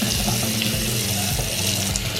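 Hot water runs steadily from a newly installed bathroom sink faucet, a close, continuous rushing splash into the basin with no pauses.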